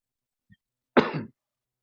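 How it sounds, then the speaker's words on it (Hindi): A single short cough from a person, preceded by a faint throat sound, heard alone at close range in a quiet room. "खांसी का केस हो तो खांसी आना मुझे भी लाजमी है"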